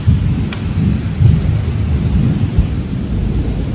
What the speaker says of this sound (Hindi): पूरी झमझमा झम बारिश हो रही है